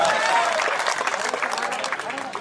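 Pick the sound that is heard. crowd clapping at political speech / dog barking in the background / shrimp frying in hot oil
crowd clapping at political speech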